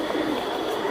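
A pair of black pigeons coos nearby in a single brief, soft, throaty burst.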